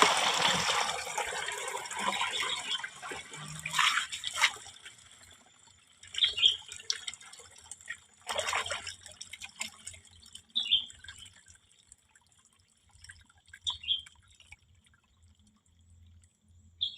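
Fermented liquid organic fertilizer being strained to separate solid waste from the liquid: intermittent pouring and trickling water with scattered drips, close and fairly quiet, in short bursts separated by near-silent pauses.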